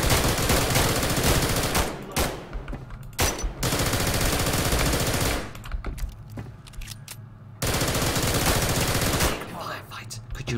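Rapid automatic gunfire from the video game SCP Nine Tailed Fox rattles loudly in long sustained bursts, broken by a few brief pauses, with a voice talking over it.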